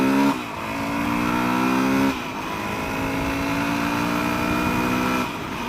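A Yamaha WR450 dual-sport motorcycle engine revs hard while riding, rising in pitch through two gear changes with a brief drop between pulls, loud and close.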